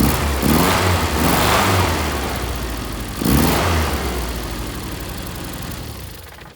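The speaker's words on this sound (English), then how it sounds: "Still got a definite misfire there." A 1973 Leyland Moke engine runs loud and close with a rough misfire, rising in two throttle blips before settling back toward a ragged idle.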